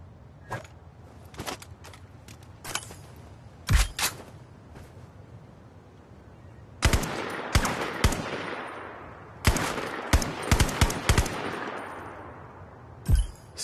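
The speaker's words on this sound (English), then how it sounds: "Grab that rifle, load it, cock it, and shoot the targets." Rifle shots in the VR game Zero Caliber 2 on Meta Quest 3, loud close single reports and short rapid bursts in uneven clusters, separated by quiet gaps with faint handling clicks.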